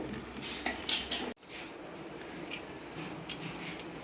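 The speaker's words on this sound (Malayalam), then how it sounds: "ദം ചെയ്യാനായിട്ട് നമ്മൾ പകുതി വേവിൽ വേവിച്ച് വെച്ചേക്കുന്ന റൈസാണ് ആദ്യം ചേർത്ത് കൊടുക്കേണ്ടത്" Metal utensils clink and scrape against a pot as half-cooked rice goes in for prawn biryani, a few close clattering knocks in the first second and a half, then softer scattered scrapes.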